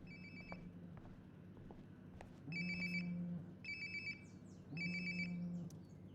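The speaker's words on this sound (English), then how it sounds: "Sounds like my phone is definitely nearby." In Life is Strange: Before the Storm, a mobile phone rings in repeated bursts of a bright electronic tone with a buzzing vibration, three rings close by at a moderate level.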